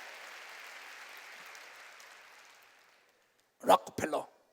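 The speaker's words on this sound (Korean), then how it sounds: "박수로 하나님께 영광 돌리라" A church congregation's applause during a Korean sermon thins and fades away over a few seconds into near silence, then a voice breaks in loudly and briefly.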